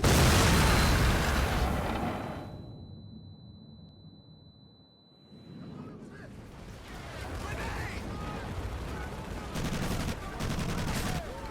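Gunfire and mortar explosions from a Pacific war battle on a pier in the video game Medal of Honor Pacific Assault, loud dense bursts and booms that drop to a brief lull, then a steady rumble of battle with voices shouting over it.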